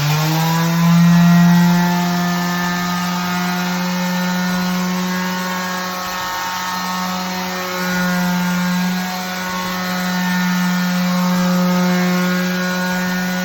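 A steady, droning electric sander with 60 grit sandpaper on a bamboo worktop, whining with a strong low hum and stacked harmonics, running continuously and loudly with slight swells.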